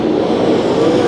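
Race cars roar together in a dirt-track heat race at Santa Maria Raceway, including a 91T machine, with a loud, steady engine drone close by and no talk.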